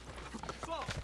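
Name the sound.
horse galloping hooves in Assassin's Creed 2 video game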